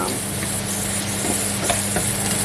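Golden apple slices frying in butter in a pan as they are stirred for caramelized apple crêpes, a steady close sizzle running throughout with soft scraping stirs on top.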